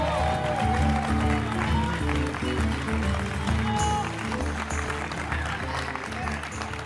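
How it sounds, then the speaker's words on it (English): A large crowd at BlizzCon 2017 applauds steadily and loudly throughout, a dense wash of clapping with cheering mixed in, and no break in the sound. "Let's get a round of applause for the streamers"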